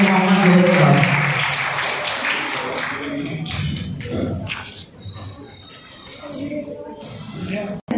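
Audience applause in a hall, a loud burst of many hands clapping that thins out after a few seconds as a voice speaks over the room.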